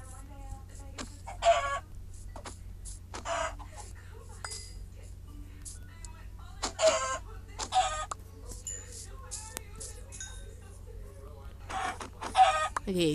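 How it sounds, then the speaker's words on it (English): Minecraft chickens cluck in short repeated bursts at a steady volume, with occasional blocky clinks of game sounds between them and a player talking at times. "Chicken."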